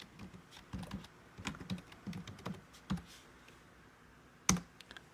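Close keystrokes on a computer keyboard come in short bursts of quick taps with brief pauses, ending on one sharper click, while a new folder is named.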